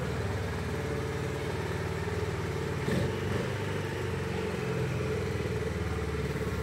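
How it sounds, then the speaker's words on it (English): Honda CB350 H'ness motorcycle exhaust running steadily close by, a continuous low engine thrum at idle with a brief blip partway through, no talking. "Let's hear the exhaust sound."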